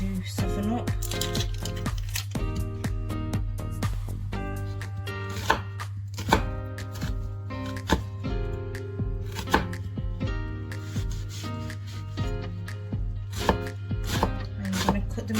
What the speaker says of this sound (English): Cut the onion into tiny little pieces.